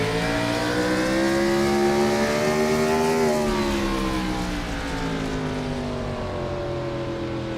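A 900-horsepower Gen 4 stock race car engine howls at full power in iRacing, a loud sustained roar with a slight pitch rise and fall as the car rolls through a corner.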